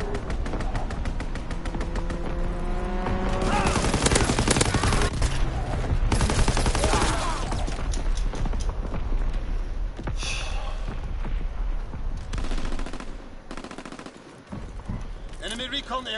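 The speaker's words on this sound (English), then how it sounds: "Fighter pilot inbound, strafing the target." In Call of Duty WWII, a fighter plane makes a strafing run, raking the target with rapid bursts of machine-gun fire, loud and close, layered with thumps and game voice callouts.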